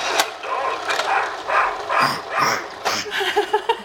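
A person imitates a dog barking for a baby, giving a series of short, close woof-like vocal bursts in an irregular rhythm, quickening toward the end.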